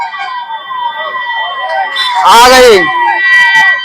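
A police car siren wails in the lead of a convoy arriving for a religious leader's departure from an ashram, its warbling tone rising loud as it nears, with people talking and calling greetings over it.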